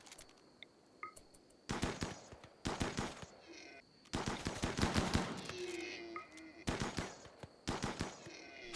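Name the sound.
gunfire shooting gazelles in the video game Rimworld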